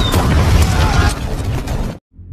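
Blast from a high-powered weapon in an action film, a loud burst of roaring, crackling explosion noise that fades and cuts to near silence at the end.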